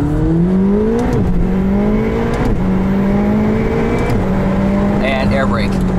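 Engine of a 2018 McLaren 720S supercar pulling hard, rising pitch climbing through gears with brief dips at each shift, loud and steady from inside the cabin, with people talking over it.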